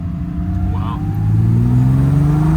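A 1970 Triumph TR6 sports car driving around the block, its engine humming steadily and rising in pitch as it accelerates, close and moderately loud.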